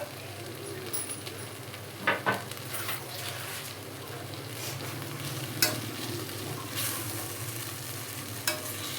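Tomato sizzles in ghee in a pan for a palak and yellow pumpkin masala, a soft continuous frying hiss broken by a few clicks and scrapes of stirring, with no voices.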